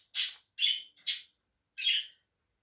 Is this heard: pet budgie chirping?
yes